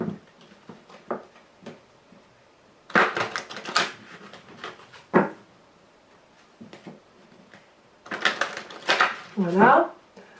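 Lenormand fortune-telling cards being cut and shuffled by hand, close-up papery slaps and flicking riffles in short irregular bursts separated by quiet pauses, the louder flurries clustered near the start and end.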